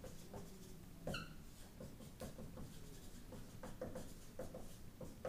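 Pen or marker scratching across a board or paper with short, irregular strokes, fairly close and moderately loud, alone without talk.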